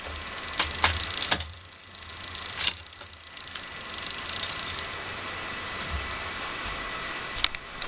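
A bicycle rear derailleur is shifted across the cogs after a barrel adjuster tweak, giving a few sharp metallic clicks and chain clatter over a steady freewheel hiss, close and fairly quiet.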